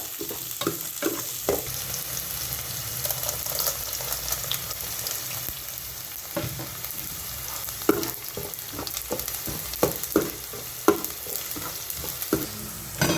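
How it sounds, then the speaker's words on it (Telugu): Three onions fry in hot oil for an egg masala curry, a steady crackling sizzle broken by repeated scraping stir strokes and occasional spoon knocks against the pan. "ఈ ఉల్లిపాయలు కొంచెం కలర్ మారే వరకు ఫ్రై చేసుకుందామండి ఆయిల్లో"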